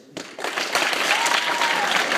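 Audience applause at a stand-up comedy show, a dense wash of clapping that starts abruptly and swells to a steady, loud level, heard on its own without talk.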